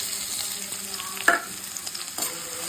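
Small sambar onions sizzle in hot oil with cinnamon and cloves while a spoon scrapes and stirs the pan, a steady fry with a couple of sharper clinks, close and without talk.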